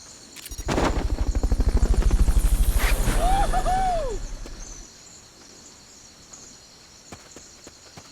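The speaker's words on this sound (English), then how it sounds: "Fulton recovery subject confirmed onboard helicopter." A helicopter in Metal Gear Solid: Peace Walker thumps loudly with a steady rotor chop for about four seconds, then fades out, with a brief whistling game tone near the end.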